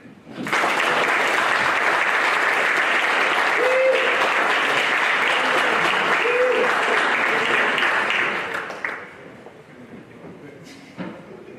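A crowd at the AFE Pro Football Hall of Fame ceremony in Canton, Ohio breaks into loud, sustained applause for about eight seconds before it tapers off into a few scattered claps and thumps.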